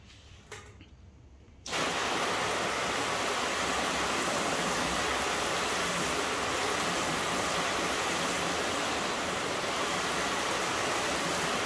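Steady close spray of water from a hose or pressure washer rinsing a car's graphene- and ceramic-coated paint, starting abruptly after a short quiet moment and running loud and unbroken to the end.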